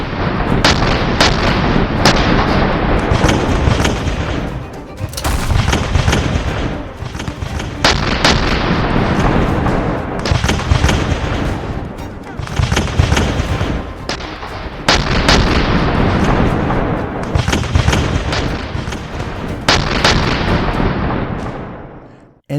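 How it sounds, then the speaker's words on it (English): Civil War cannon artillery barrage at Gettysburg, a dense run of loud booming blasts and crackling gunfire repeating in clusters about every few seconds, with no talk. "under the command of General Robert E. Lee, readied their cannons for the largest artillery barrage of the whole Civil War."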